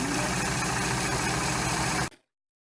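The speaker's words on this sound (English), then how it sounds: "And sew it all the way around." Sewing machine stitching around a pillowcase dress, a steady close mechanical whir with rapid rhythmic needle clatter that stops abruptly near the end.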